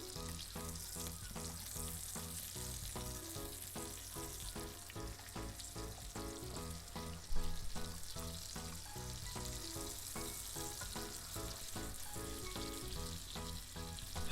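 Tomato slices fry in a pan for an egg and tomato omelette, giving a steady, close sizzle that runs throughout with one brief louder crackle midway.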